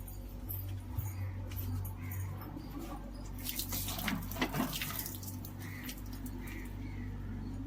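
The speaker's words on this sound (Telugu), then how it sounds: "శుభ్రంగా రెండుసార్లు నీళ్ళతో కడగాలి" Soaked green gram (mung beans) gets rinsed in water, bringing a soft, continuous swish and trickle with a few brief sloshes and splashes midway, close and fairly quiet.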